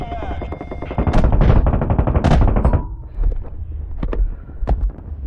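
Futuristic space guns firing in the zero-gravity shooter Boundary, loud rapid automatic bursts followed by a few sharp isolated shots, with no talking.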